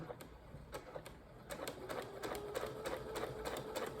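A sewing machine stitches a skirt made of paper bag material, running in quick bursts of rapid mechanical clatter with brief pauses as the presser foot is lifted and lowered, close and moderately quiet.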